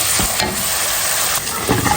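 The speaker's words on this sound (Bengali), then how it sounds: "আর এখন পেঁয়াজ বসাই দেবো কড়াইতে, আর পেঁয়াজটা বসাই দিচ্ছি, এটা ভাজা ভাজা কইরা" Onions sizzle steadily in hot oil in a wok, with a few scraping stirs breaking through the constant crackle.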